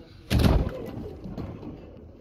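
Pigeons give a short, fairly close coo with a soft fluttering onset, fading to a quieter murmur over the next second or two.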